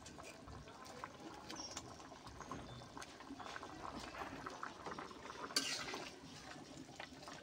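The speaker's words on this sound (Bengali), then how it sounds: "ঝোলটা ফুটে গেছে, এবার মাছটা দিয়ে দেব।" Curry broth bubbling in a pan as pieces of silver carp fish are added, a soft steady simmering hiss with a brief splash and clatter near the end, quiet and close.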